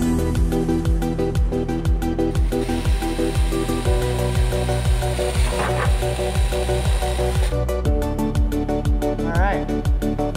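A power drill with a step drill bit grinds a 7/8-inch hole through the hood of a 1966 Mustang coupe with a rapid ratcheting chatter, steady and loud up close, pitch wavering as the bit bites.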